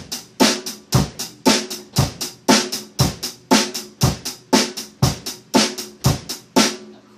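A rock beat on a drum kit, with evenly spaced strong hits in a steady repeating pattern, close and loud, with no talking.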